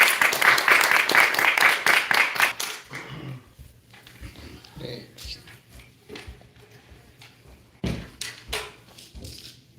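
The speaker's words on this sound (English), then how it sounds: "So let's give a big round of applause to him." Applause for an absent guest at an ISKCON temple gathering, loud crisp clapping for the first few seconds that quickly fades into a quieter room with scattered sounds and a short burst near the end.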